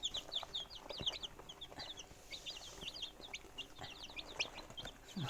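Many small chicks peep and chirp in quick, overlapping bursts, with occasional light taps of pecking, fairly close and steady throughout.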